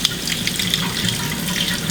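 Multicolored quinoa, one cup, rinsed under a running kitchen tap, with a steady close rush of water splashing through the grains without pause.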